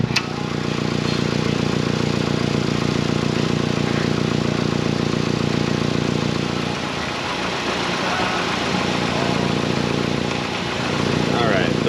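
A 2007 Mazda CX-7 2.3 engine with its vacuum leak sealed runs at a steady idle, a continuous mid-pitched hum heard close, with a voice talking over it partway through.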